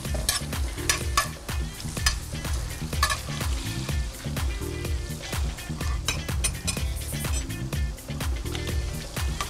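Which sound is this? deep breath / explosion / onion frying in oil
onion frying in oil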